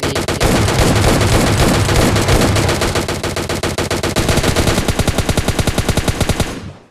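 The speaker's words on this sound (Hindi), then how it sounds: "तो आप देखना मेरे को कितनी गोलियां मारता हूँ, फिर भी ये मरता नहीं है" Rapid bursts of automatic gunfire in PUBG Mobile Lite, loud and continuous, shifting to a sharper, evenly spaced rattle near the end.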